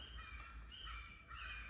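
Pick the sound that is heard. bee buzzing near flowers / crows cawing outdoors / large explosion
crows cawing outdoors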